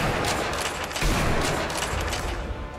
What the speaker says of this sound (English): a lot of people shoot me from the other side